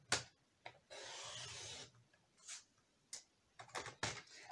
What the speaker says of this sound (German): Also schneiden wir uns hier mal einen 3 cm breiten Streifen ab.